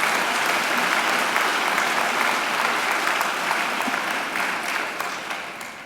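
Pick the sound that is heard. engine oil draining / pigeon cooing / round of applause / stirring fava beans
round of applause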